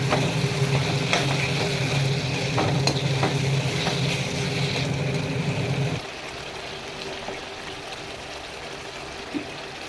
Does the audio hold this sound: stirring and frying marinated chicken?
yes